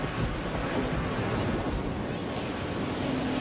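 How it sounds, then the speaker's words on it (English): Storm-driven waves from the 1938 hurricane pounding a Connecticut shoreline, a loud, dense, unbroken roar of surf with wind rumble, no voices heard. "relentless waves pound Katharine Hepburn's summer home"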